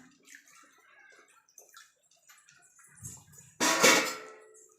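Quiet clinking and small kitchen sounds, then a sudden loud splash of water pouring into a pressure cooker of chicken curry for about a second before stopping.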